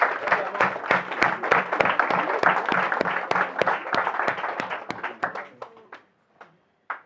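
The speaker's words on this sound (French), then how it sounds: "ce que je vous propose, c'est de vous applaudir aussi" Audience applause at a talk, a small group clapping in a steady rhythm of distinct claps that thins out and trails off into a few last claps.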